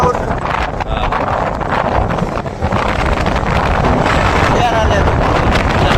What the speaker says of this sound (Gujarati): પવન કેમ આવે ઠંડો ઠંડો બરફ જેવો